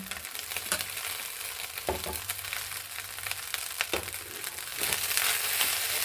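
Cooked rice is stirred into a fried lemon rice tempering in a pan, giving a constant oily sizzle broken by repeated scraping, crunching spoon strokes, building slightly louder toward the end.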